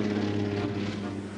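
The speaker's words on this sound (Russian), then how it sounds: "Тяга самолета." A propeller airplane engine drones steadily with a low, throbbing hum, loud and close, holding a constant pitch for the whole short stretch.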